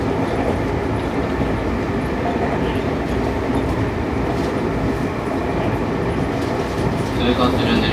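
A Seibu 6000 series train, set 6157F with Toshiba IGBT traction equipment, runs on the line from Hanno toward Ikebukuro. A steady, loud interior rumble of wheels and motor holds throughout, with a faint rise near the end.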